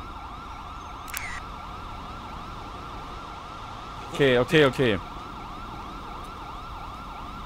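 Siren from a police vehicle in GTA 5 wails steadily in a repeating up-and-down sweep for the whole stretch, with a few brief sharp horn-like blasts in the middle and a short word spoken near the start.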